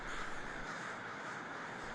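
A large flock of crows in Portland during the winter evening migration caws as a dense, distant wash of overlapping calls, faint and continuous with no distinct single bird standing out.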